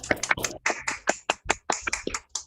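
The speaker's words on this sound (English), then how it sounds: "give a round of applause to Berit and to all of you who have contributed to this beautiful space today" Scattered claps from online meeting participants after a dialogue session on reconciliation and textile making, a dozen or so separate sharp hand claps in an uneven rhythm, close to the microphone and fairly quiet.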